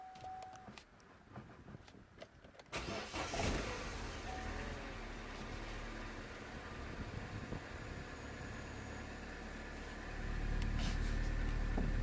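A Vauxhall/Opel Meriva B engine cranks and fires after a quiet start, then settles into a steady idle that rises louder near the end, with no talk.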